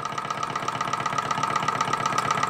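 A vintage 1904 Bing hot air Stirling engine, made in Nuremberg, Germany, runs steadily with a fast, even mechanical ticking and whirring pulse, close and continuous throughout.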